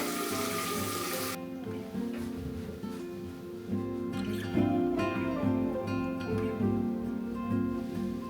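Tap water runs steadily while hair is rinsed and washed after dyeing, a continuous close splashing rush with no one speaking.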